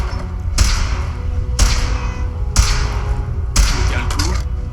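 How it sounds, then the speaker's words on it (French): Gunshots in Fallout 4, four loud heavy booming shots evenly spaced about a second apart, each with a sharp attack and a lingering tail over a constant background. "Attention, je tire."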